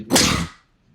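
A single sharp, loud sneeze bursts out near the microphone during an office interview about business metrics, then trails off into quiet.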